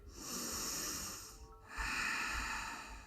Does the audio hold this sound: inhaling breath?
yes